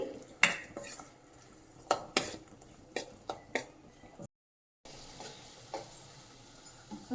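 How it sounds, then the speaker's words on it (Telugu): Onions and green chillies with turmeric are stirred in a pan, the spoon giving scattered clinks and scrapes against the metal over a faint background, with one short silent gap. "మనం వేసుకున్న ఉల్లిగడ్డ ఇంకా పచ్చిమిర్చిలో కొంచెం పసుపు వేసి కలుపుకోవాలి"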